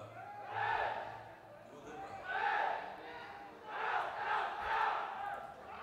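Spectators at the side of the field cheer and shout at a Division 1 final between military brigade teams. The crowd noise rises and falls in three or four distant swelling waves.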